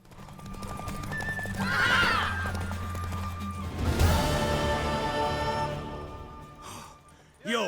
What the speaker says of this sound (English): My horse! She no run no fast.